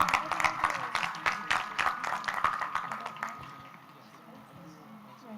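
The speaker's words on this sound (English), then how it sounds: "Let's give another round of applause to all our debaters this afternoon." An audience applauds debaters at an afternoon debate semi-final, a dense patter of clapping that gradually thins and fades toward the end.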